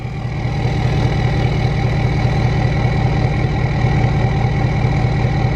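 Cummins diesel truck engine idling: a steady, loud, low rumble that holds even throughout, close by, with no voices.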